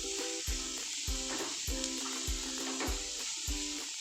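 Cabbage sizzles and fries in a pan as it is stirred for a masala, a steady hiss with regular thumping scrapes about every half second, fairly close and with no talk.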